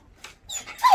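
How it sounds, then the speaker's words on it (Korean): Dog whimpering beside a potted tree, a few short high whines and yips close by, rising to a thin sustained whimper at the end. "황칠나무 화분 옆에 그 우유라는 멍멍이가 있어가지고 조금 보여드렸어요"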